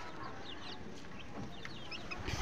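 Native domestic chickens on a small farm cluck in a scattered flock, with short close calls repeating over a steady background hiss and no talk.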